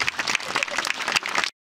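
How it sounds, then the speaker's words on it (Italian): A crowd at an outdoor inauguration in San Giovanni a Piro applauds the mayor in a dense, continuous round of clapping that cuts off abruptly. "l'applauso è meritato veramente al sindaco"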